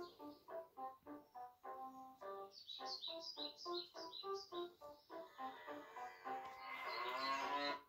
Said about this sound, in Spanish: ¿Va una vaca paseando por el campo? Mugiendo, cantando, soñando.